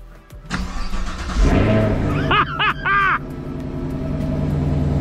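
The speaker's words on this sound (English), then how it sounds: "here's the cold start." Cold start of a 2023 Chevrolet Camaro with the LT1 V8: starter crank, then a loud catch and rev flare with a couple of sharp blips, settling into a steady, rumbling high idle, heard up close.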